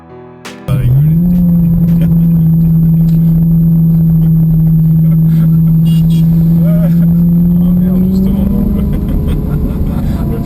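Rally in the Yonne where a Citroën 2CV overtakes a Ferrari, a loud, close, continuous engine drone that starts abruptly and holds a steady note, then climbs in pitch toward the end.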